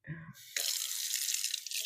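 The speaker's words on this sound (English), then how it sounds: "I'm going to go ahead and add just a tad bit of water." Water splashes from a tap into a pan of pasta and leftover chicken, a sudden hissing stream that runs steadily after a brief bit of voice at the start.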